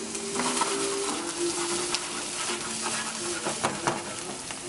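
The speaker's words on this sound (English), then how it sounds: "we're going to add the onion, the garlic and parsley to the pan, as you can hear it" Onion, garlic and parsley sizzle in a hot pan, a dense steady crackle and hiss with occasional scrapes and taps from stirring, close and continuous.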